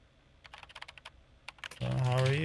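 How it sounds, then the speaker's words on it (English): Rapid, irregular keystrokes on a computer keyboard, close and fairly light, during a game session, cut off near the end by a sudden loud sustained synthetic tone or voice-like sound. "Use your keyboard to talk to Kaizen."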